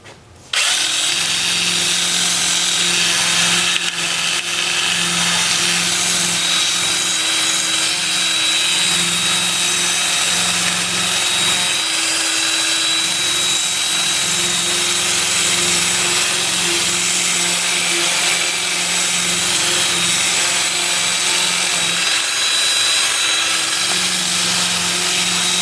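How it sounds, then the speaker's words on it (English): A wood bowl spins in reverse on a lathe at 320 RPM while a 2-inch 100-grit sanding disc is pressed against it, a loud continuous whirring power-tool drone with a steady hum, running alone throughout. "I'll switch to my 2-inch disc starting at 100 grit"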